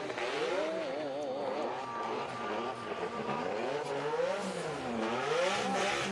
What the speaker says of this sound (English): That's a lot of wheel spin.